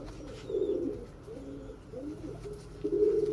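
A female Limonu Akbaş pigeon gives soft, low coos in a few short phrases, close and clear against a quiet background.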